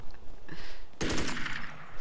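Rapid bursts of video game gunfire during a sniping match, a dense rattle of shots that sharpens and grows louder halfway through, heard alone without talk.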